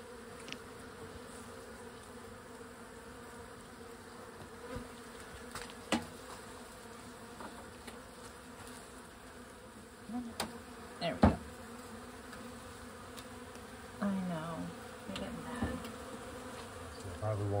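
Honeybees buzzing steadily during a hive re-homing at Mill House, a faint continuous hum with occasional closer passes and light knocks, with soft voices now and then.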